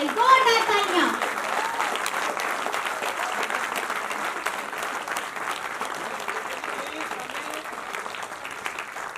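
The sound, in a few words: audience applause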